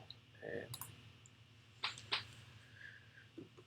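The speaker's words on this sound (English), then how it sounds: "we click OK" A computer mouse clicks OK in a CAD program, giving two sharp, close clicks a moment apart over a quiet room with faint vocal sounds.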